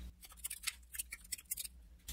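Playing cards shuffled for a solo board game session, a quick run of crisp riffling flicks and snaps over about two seconds, close and fairly quiet.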